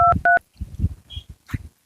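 Two short touch-tone beeps of phone dialing, followed by some quieter clicks and handling sounds.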